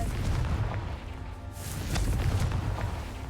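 Confringo fire-blast spell explosions in Hogwarts Legacy, a couple of deep booming bursts in quick succession over a dull rumbling game backdrop.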